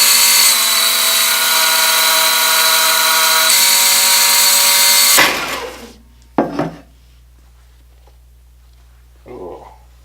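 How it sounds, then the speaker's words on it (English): A belt sander grinds a hand plane under restoration, a loud steady whirring roar that cuts off after about five seconds and winds down, followed by a few scattered handling knocks and scrapes nearby. "back to the grinder. Well, not even a grinder, just a belt sander"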